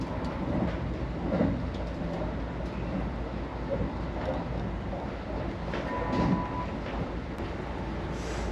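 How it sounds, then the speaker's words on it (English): Interior rumble of a Kintetsu Shimakaze limited express train running at high speed, around 120 to 130 km/h, a steady dense low roar with faint rail clatter throughout and no talk. "It's hard to believe we're inside a train going over 120 kilometers per hour."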